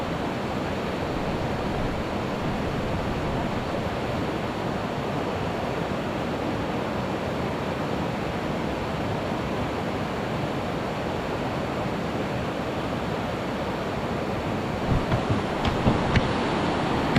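Floodwater rushes through a river, a dense, steady roar of churning water that stays loud and unbroken throughout, with a few faint knocks near the end.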